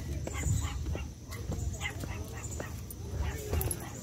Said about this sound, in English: Damn, somebody got a dog in the car.